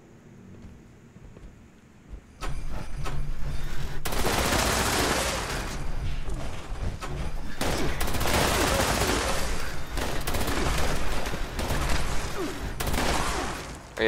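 In Fallout 76, an Explosive Gatling Laser fires in long, dense bursts. After a quiet opening it starts with a loud rapid crackle, which keeps up with short pauses and sudden restarts.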